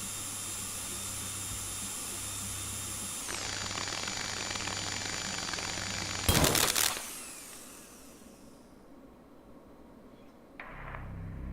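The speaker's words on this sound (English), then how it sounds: "When ready, trigger sync master as normal to begin drill insertion." A power drill runs in the video game Stories Untold: a steady high mechanical whine that rises after a few seconds, then a sharp loud burst before it winds down and fades, with a faint return at the end.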